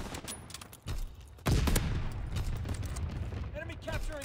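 Anti-aircraft guns pound away in a World War II shooter, a dense barrage of overlapping bursts and booms that swells sharply partway through and rumbles on loudly, with radio-style voices breaking in near the end.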